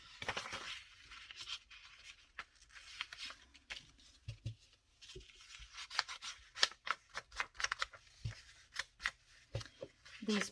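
Scissors cut through paper in a quiet room, making a run of crisp snips and rustles that quicken toward the end, close and fairly faint, with a voice speaking briefly.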